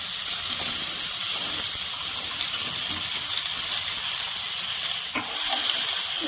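Bottle gourd pieces sizzle in a spicy paste of chili powder frying over a lowered gas flame, a steady loud hiss and crackle of oil and steam that holds evenly throughout, no talking.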